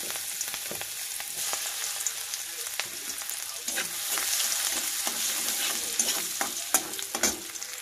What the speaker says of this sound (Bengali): দিয়ে একটু ভালো করে এটাকে ব্রাউন করে নেড়ে নেবো, ভেজে নেবো ভালো করে।